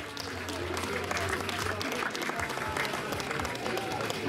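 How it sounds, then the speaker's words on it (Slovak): Crowd applause at an outdoor race awards ceremony, Zvolenská Grgalica 2019, a steady dense clapping lasting throughout, with a low hum early on and some voices mixed in. "Veľký potlesk."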